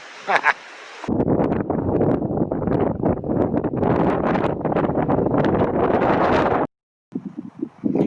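Strong wind buffets the microphone in a steady loud roar on a trail during an elk hunt in Conejos County, briefly cutting out near the end before gusting back.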